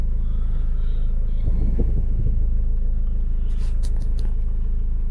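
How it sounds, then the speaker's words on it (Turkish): A Nissan Note rolls into the pit of a vehicle inspection station with a steady low engine rumble close by, a brief scrape partway through and light clicks near the end, no talk. "Şu an kanala girecek abi araba."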